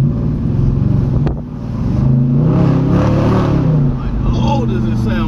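A Dodge Challenger Hemi V8 with a stock exhaust rumbles and revs up nearby, a deep throaty roar rising and falling under a voice talking over it.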